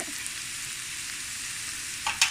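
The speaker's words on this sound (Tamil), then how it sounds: "உள்ளி, இஞ்சி, கேரட், பீன்ஸ், பச்சை மிளகாய் இதெல்லாம் இதுக்குள்ள இப்படியே வதங்குது. நெய்யும் கலந்து வதங்கி கொண்டு வர" Garlic, ginger, carrot, beans and green chili sauté in ghee for prawn and vegetable fried rice, giving a steady close hiss with a couple of louder spatters near the end.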